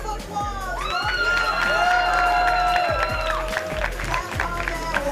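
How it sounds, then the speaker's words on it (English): A large audience at a Texas esports state championship applauds and cheers loudly and steadily for about five seconds, with whoops and shouts over continuous clapping and low stage rumble. "can I get a round of applause from you?"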